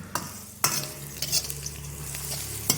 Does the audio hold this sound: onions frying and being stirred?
yes